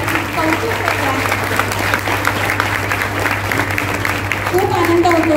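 An audience at a women's festival event in Ratnagiri claps steadily and loudly, the applause holding as a dense wash throughout with voices mixed in over a low hum.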